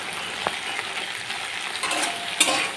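Okra with green chillies and turmeric is stirred in a pan, a soft frying sizzle under a few scraping spatula strokes, close and moderately loud.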